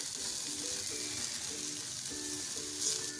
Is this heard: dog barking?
no